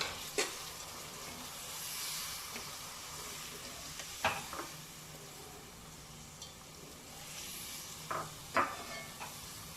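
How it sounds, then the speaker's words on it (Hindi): Vermicelli simmering in sugar and two cups of water for sawaiyun ka zarda: a soft, continuous bubbling sizzle and hiss, with a few faint clinks and stirring knocks scattered through. "चीनी और 2 कप पानी डालने के बाद हम सवैयों को पकाएंगे कि वो थोड़ी नरम हो जाए"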